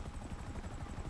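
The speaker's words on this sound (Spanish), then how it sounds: "En mi helicóptero." Helicopter in a zombie video game, a steady rapid low rotor chop with a constant engine drone, loud and close throughout.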